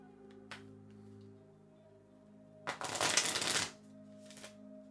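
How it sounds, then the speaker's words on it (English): Tarot cards being shuffled during a reading, heard as one loud riffling burst in the middle with brief softer card flicks before and after over a low steady hum, and no talk. "Getting the shuffling going."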